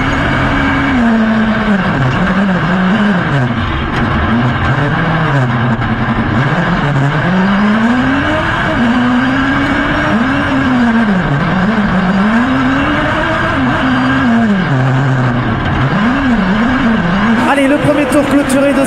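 A 1600 buggy race car driven by a professional racer crosses the line, its engine droning and rising and falling steadily and loud throughout, with a voice talking over it.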